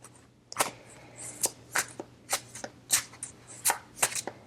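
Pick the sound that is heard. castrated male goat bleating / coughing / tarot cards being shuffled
tarot cards being shuffled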